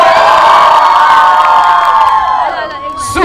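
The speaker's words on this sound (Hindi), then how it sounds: "जितना भी जोश है इन दोनों के लिए एक बार वो जोश से तालियों और हूटिंग" A wedding sangeet crowd erupts in loud cheering, whoops and hooting, a dense close roar that holds steady and then tapers off near the end.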